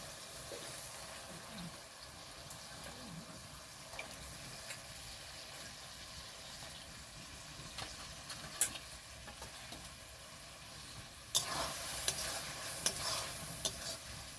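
Chicken giblets frying with spices as they are stirred, a faint low sizzle with occasional soft scrapes, then louder frying and clinks near the end.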